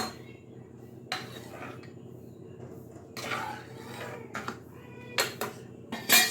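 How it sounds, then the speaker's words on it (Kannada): Pots and a ladle clink and knock intermittently while palak saaru is spooned into a lunch box, several sharp metallic taps spaced over a quiet kitchen background. "ಈಗ ಬಾಕ್ಸಿಗೆ ಹಾಕ್ಬಿಡ್ತೀನಿ ಸಾರು ನೋಡಿ."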